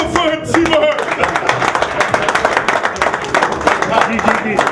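Continuous, dense hand clapping from an audience at a concert in Brooklyn, loud and close, with voices mixed into the applause throughout.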